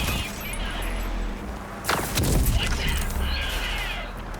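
Turret gunfire from enemy turrets in a ghost-themed video game, a burst of sharp booming shots and crashes rising near the middle over a steady game soundscape.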